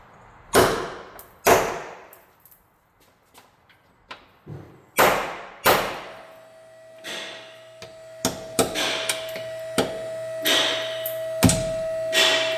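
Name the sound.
hammer whacking socket on bolts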